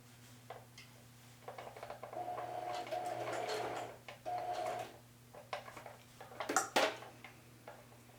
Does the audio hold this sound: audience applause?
no